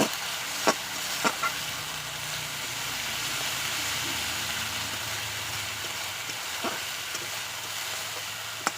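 Spice paste fries in oil in a pan while being stirred, a steady hissing sizzle throughout with sharp occasional spatula clicks against the pan.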